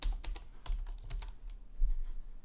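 Typing code on a computer keyboard: rapid, irregular clicks and taps, close and fairly quiet, over a low background hum.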